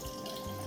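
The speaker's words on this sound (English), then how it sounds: "So I will just take some water from here" Water trickles and splashes from a tap in a kitchen while mustard paste is being made for prawn malai curry, a faint short hiss with no voices.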